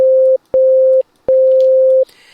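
Three identical plain, pure-toned synthesizer notes from the FL Studio 3xOSC plugin sound in sequence, each held under a second with short gaps, loud and close, followed by a faint click and rustle.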